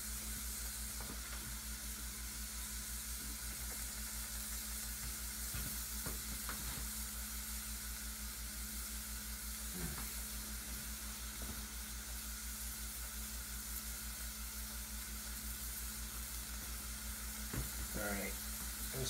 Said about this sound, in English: you want to minimize the mess on your stove when you're making greasy burgers